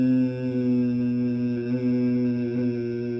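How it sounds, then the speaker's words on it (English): Steady nasal humming of Brahmari Pranayam breathing, a single sustained bee-like tone held evenly and close with slight wavers, and no other sounds. "just make the Brahmari sound like this"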